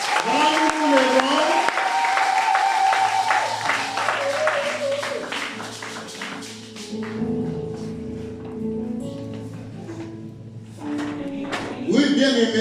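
A church congregation applauding to acclaim God, loud sustained clapping from a crowd with cheering voices and music rising beneath it, easing off midway before swelling again at the end.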